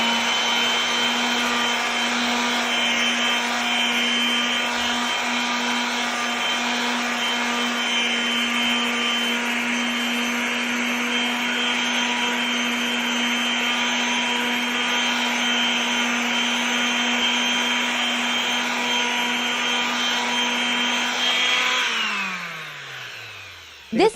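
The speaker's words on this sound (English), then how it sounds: "Let's grind this corner again." A steady, close grinder drone with a constant tonal whine runs for over twenty seconds while flattening a groove in aurora paint, then winds down at the end.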